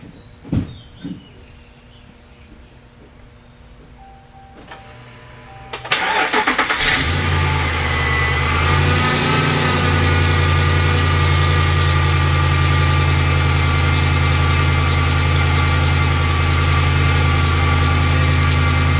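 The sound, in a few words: Ram 2500 truck engine starting and idling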